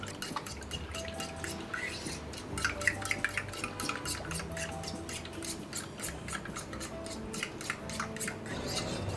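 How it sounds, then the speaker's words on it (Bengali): A fork beats eggs, salt, sugar and milk together in a bowl, making quick, repeated light clicks and taps against the sides in an uneven rhythm over a quiet background. "এখন একটা কাঁটা চামচের সাহায্যে সব কিছু মিশিয়ে নিব।"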